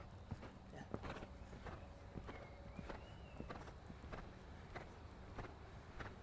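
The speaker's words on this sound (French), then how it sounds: "Laisse galoper ton cheval." A horse moves on an arena line during a riding lesson, its hooves giving a steady, fairly even clip-clop at a moderate distance over a broad outdoor background hiss.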